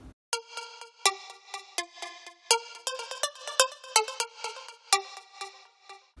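Bright synth lead notes with sharp plucky attacks, a quick melodic run of many short stabs in uneven rhythm, isolated with no talking.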